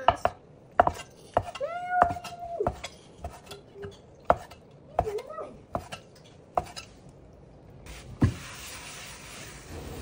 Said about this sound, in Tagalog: At syempre malambot na nga yan, ihiwain na natin.